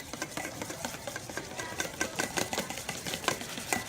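Rapid, steady whisking of butter into two egg yolks for a sauce, a close metallic clatter of whisk against bowl repeating quickly and evenly throughout, with no talk.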